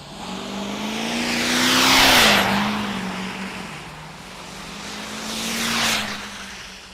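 2008 Ford F-250 diesel truck drag racing at a diesel nationals event: a loud engine roar that rises and passes close by, fades, then a second swell of engine noise, heard in open air with no talk.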